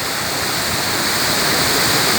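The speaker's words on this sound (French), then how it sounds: "Il y a un petit pont avec une cascade, c'est magnifique, c'est beau." Small waterfall cascading beside a little bridge in Saarburg, Germany, a dense, steady rushing roar of falling water heard up close and loud, with no voices over it.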